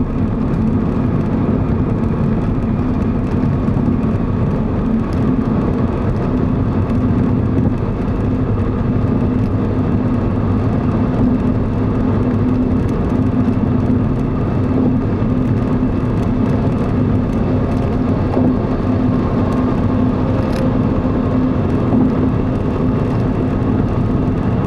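A car cruising along a Florida highway at about 80 mph with the flow of traffic, heard from inside as a loud, steady engine and road drone with tire roar, unbroken and without talk.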